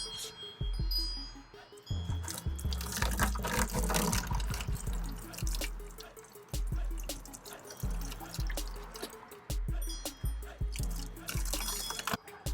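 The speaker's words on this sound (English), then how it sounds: "Now I'm just going to dump it on the driftwood and hopefully not die." Boiling water is poured from a container over aquarium driftwood, giving an uneven splashing trickle with drips that stops and restarts several times across the pour.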